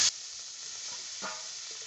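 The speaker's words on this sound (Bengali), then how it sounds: "মাছ ভাজার তেলে ফোড়ন দিচ্ছি" Bay leaf, cumin and green chillies go into oil left over from frying fish, giving a continuous close hiss and sizzle after a brief sharp start, with a faint clink partway through.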